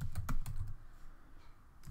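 A command is typed on a computer keyboard, giving a quick cluster of close key clicks that fade into a quiet pause, then one last soft tap.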